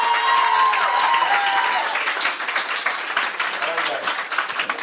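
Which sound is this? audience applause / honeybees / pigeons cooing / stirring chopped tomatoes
audience applause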